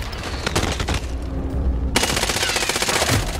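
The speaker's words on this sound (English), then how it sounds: "Getting shot at." Rapid bursts of automatic gunfire rattle through a Warzone match, loud and dense, pausing briefly before a second sustained volley, with no talk over it.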